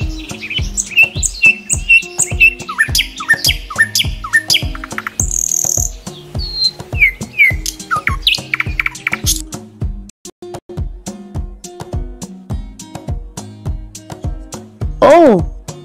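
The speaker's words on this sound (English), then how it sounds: "And the sound of the nightingale is..." A nightingale sings bright, rapid chirps and warbling trills in short bursts, close and loud, over a steady rhythmic plinking backing beat.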